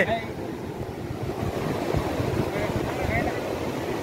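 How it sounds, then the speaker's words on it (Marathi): A swollen, flooded Manjara river at Nagzari near Latur rushes past in a continuous, loud broadband roar of churning water with wind buffeting the microphone, and faint voices may sit beneath it. "मांजरा नदी बघा खूप पाणी आलेलं आहे"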